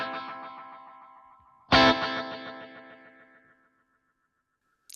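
Kemper Profiler guitar tone through a Space Echo-style tape delay set to mode 8 with heads 1 and 2. A struck chord rings and repeats in fading echoes, then a second strum trails off into silence.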